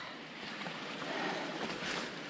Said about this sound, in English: we're right at the waterfall